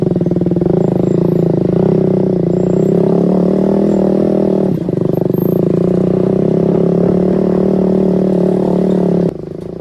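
A KTM RC motorcycle fitted with an Akrapovič exhaust runs close by with a loud, steady, throbbing engine note for about nine seconds, dipping briefly midway before cutting off near the end.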